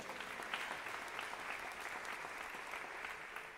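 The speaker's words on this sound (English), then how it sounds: "give a big round of applause to her, ladies and gentlemen, Alison Fisher." Audience applause at a women's 10-ball world pool championship semifinal as player Alison Fisher is introduced. The clapping is dense, steady and sustained at an even level throughout.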